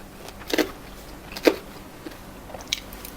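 Crisp bites and crunches on crispy pork belly served with Chinese kale in oyster sauce, three sharp crunches spaced apart, close and fairly quiet with no talk over them.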